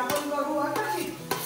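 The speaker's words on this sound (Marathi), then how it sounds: "आता हे सगळं यात टाकून मिक्स करायचं" A coconut mixture being mixed in a bowl, with a few short scraping strokes and soft clinks of a utensil against the bowl, close and quiet, no voices.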